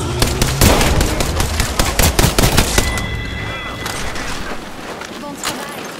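Rapid gunfire in the shooter game Apex Legends, a dense volley of loud, close bursts that tapers into scattered shots and softer background noise, with a voice heard briefly.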